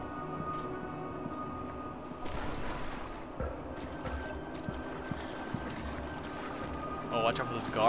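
A boat moves across water in the Watch Dogs video game, a churning motor and water wash under steady game ambience with a few thuds, while people talk over it.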